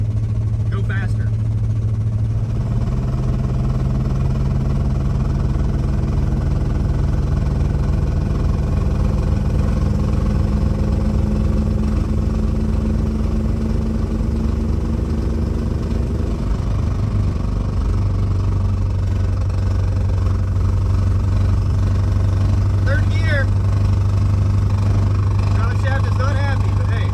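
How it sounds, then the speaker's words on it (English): A 1958 Plymouth barn find, driven after 30 years off the road, makes a loud continuous exhaust drone with changing engine pitch. A rubbing drive shaft runs underneath the drone, and occasional talk comes and goes. "the exhaust gets louder than the drive shaft rubbing"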